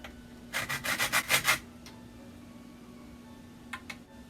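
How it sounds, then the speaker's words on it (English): A ball of traditional Jamaican chocolate is rubbed against a hand grater in about six quick rasping strokes, then two faint scrapes follow, close and alone. "I'm almost finished grating."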